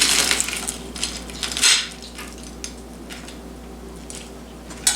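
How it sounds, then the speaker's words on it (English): A knife cuts through a crispy fried fish, giving crackly, crunchy scraping and a few light clinks against a plate, close and fairly quiet, with no talking. "I'm gonna cut it in half for you."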